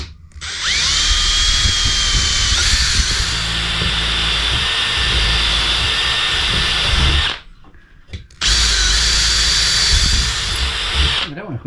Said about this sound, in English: And all I need to do now is drill this